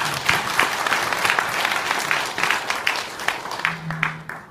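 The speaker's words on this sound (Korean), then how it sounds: "격려의 박수 한번 드리겠습니다." A church congregation gives a round of encouraging applause after a small group sings a hymn, steady dense clapping filling the room throughout, with a brief hum near the end.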